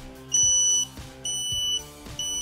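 A T40 H2S gas monitor sounds its alarm: loud, high electronic tones pulse in three bursts with short gaps, close and alone.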